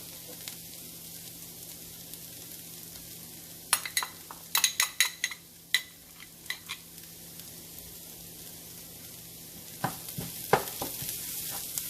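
Crab masala with chili powder being stirred in an oiled pan, giving a steady low sizzle with bursts of spoon and pan scraping and clinks clustered in the middle and again near the end.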